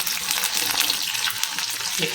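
Mushrooms frying in a pan for mushroom chilli crackle and sizzle steadily up close, a dense, busy spitting sound with faint stirring, no voices.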